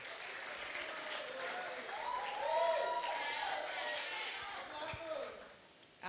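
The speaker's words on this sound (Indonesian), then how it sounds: "tepuk tangan dulu dong." Audience applause fills a seminar hall on digital broadcasting, a steady wash of many hands clapping at moderate volume that swells slightly midway and holds for several seconds before tapering off, with a faint voice underneath.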